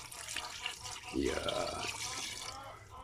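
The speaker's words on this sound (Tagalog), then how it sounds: "maglalagay ako ng mga 2 basong tubig" Water pours into a cooking pot for a mudfish soup, a brief splashing fill of about two glasses rising and then tapering off, close by, with a short spoken word at the start.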